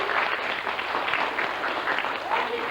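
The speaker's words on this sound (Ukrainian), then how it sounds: "Аплодисменти." Applause from the audience at a 2004 Palm Sunday stage performance in Magdalin, Kobryn: a dense, even wash of many hands clapping that holds steady from start to finish at moderate loudness.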